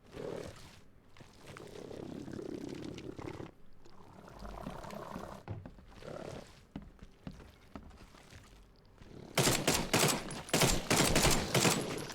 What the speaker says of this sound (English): Likes the machine gun. Of course, it uses a ton of ammo.